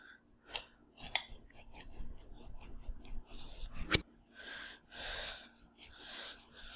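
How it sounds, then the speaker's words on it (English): A knife cutting a spaghetti squash in half on a kitchen counter, heard as close, quiet crunching and rasping strokes with a few sharp cracks as the hard rind splits, and no talking. "Now that our squash is cut in half"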